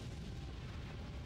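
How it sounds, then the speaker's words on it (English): A spell-like explosion attack from the Legend of Dragoon video game lands as a short, dense, rumbling boom, fairly faint and heard alone. "Explosion!"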